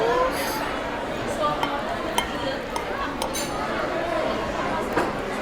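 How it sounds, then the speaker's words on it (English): Fork and knife cutting into an Impossible plant-based meatball on a plate at a Walt Disney World restaurant, with scattered light clinks and scrapes over a steady hum of restaurant chatter. "let me go ahead and chop open one of these meatballs"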